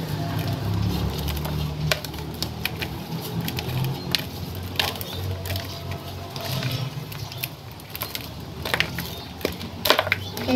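Steady patter of rain falling on surfaces, with scattered sharper drips and taps throughout, fairly close and continuous with no talking.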